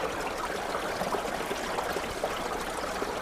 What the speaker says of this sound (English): there's an entire sort of river running down here